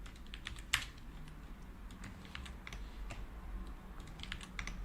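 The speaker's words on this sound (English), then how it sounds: "It sounds like a typewriter." Fingers type quickly on a computer keyboard at a software developer's desk, a quiet close run of clicky keystrokes with one sharper tap near the start and no talking.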